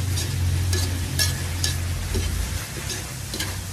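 Adobo frying in a pan, a steady loud sizzle with a low hum running beneath and a few light scrapes or stirs scattered through it, with no voices.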